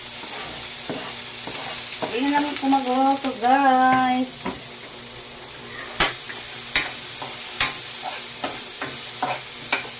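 Garlic, onion and ginger sizzle steadily in a hot pan while a spoon scrapes and stirs with sharp clicks; a person speaks briefly over the cooking.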